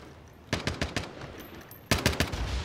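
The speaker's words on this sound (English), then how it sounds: "They're trying to shoot my personal radar down." Automatic gunfire in Call of Duty Warzone comes in two sharp bursts of rapid, loud cracks, several shots each, separated by a short pause, with no talk.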